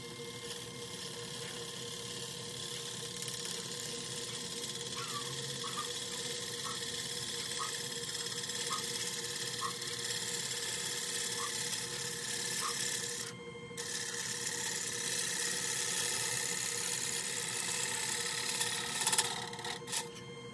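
Wood lathe turning the outside of a century-old red cedar bowl blank with a bowl gouge, a steady close mechanical whir with a faint repeating tick and brief scraping bursts near the end.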